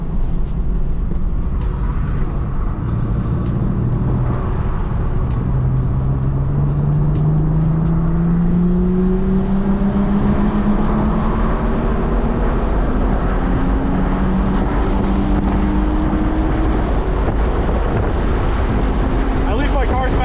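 A BMW at speed on a race track chasing a Honda S2000, with a steady engine drone that rises in pitch through several gear pulls, under heavy wind buffeting and occasional talk.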